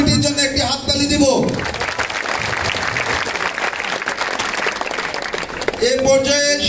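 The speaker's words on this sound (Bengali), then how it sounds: "আমরা পৌর ছাত্র দলের নবগঠিত কমিটির জন্য একটি হাততালি দিব" Applause at a Shibganj, Bogura student wing conference for a newly formed municipal committee, a crowd clapping steadily for about four seconds between stretches of an announcer speaking over a PA.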